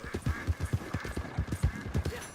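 Hooves clip-clop steadily from a horse in a video game, a brisk even trot of close, crisp knocks with faint background ambience.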